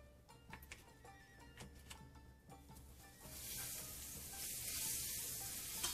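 Butter sizzling on a hot hibachi grill, starting with scattered clicks and light sizzle, then swelling into a loud, continuous hiss that holds to the end, close up with no talking.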